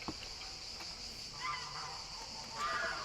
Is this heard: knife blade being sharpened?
no